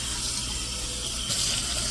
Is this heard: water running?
yes